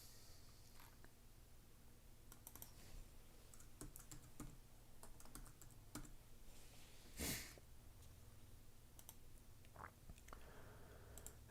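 Fingers tap on a computer keyboard during a coding session, scattered quiet keystrokes in uneven bursts over a low background hum, with one louder clack midway.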